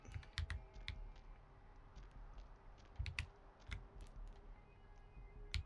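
Computer keyboard and mouse during PC gaming of a vampire game: quiet, rapid clusters of key taps and clicks, close but faint, with no talking.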